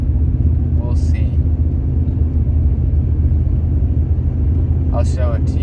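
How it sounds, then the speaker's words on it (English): A truck engine runs rough while driving uphill, a loud, constant low rumble throughout, with a voice briefly heard over it near the start and end. "The truck does not sound good."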